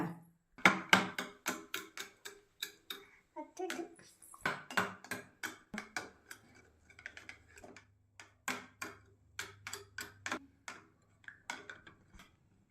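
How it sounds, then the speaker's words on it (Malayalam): A child stirs homemade lime juice with a spoon, making a run of sharp, close clinks and taps against the glass in uneven bursts, with quiet gaps between them and faint voices in the background. "ഇളക്കിയോ നന്നായിട്ട്"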